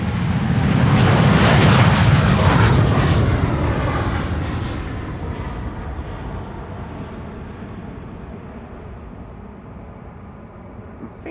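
Aircraft PH-BKF passes at Amsterdam Schiphol Airport, its engine roar swelling loud for the first few seconds, then fading away into a long, receding rumble.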